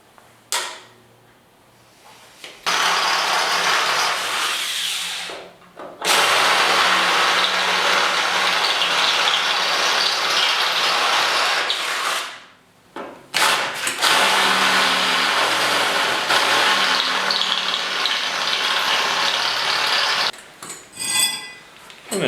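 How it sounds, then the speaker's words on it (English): A power drill whines loudly into the metal frame of a 1967 Chevy truck in long sustained bursts, stopping briefly between runs, with a harsh grinding edge throughout. "drill those out"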